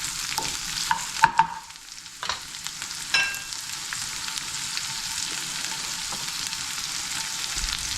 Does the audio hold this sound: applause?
no